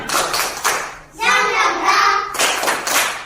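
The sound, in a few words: class clapping a rhythmic spirit clap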